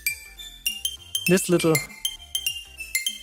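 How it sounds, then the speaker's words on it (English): A pencil strikes a kitchen glass in a series of bright, ringing clinks with short decays, spaced irregularly, while a voice briefly talks in the middle. "Then I took a glass from my kitchen, took a pencil, slammed against the glass,"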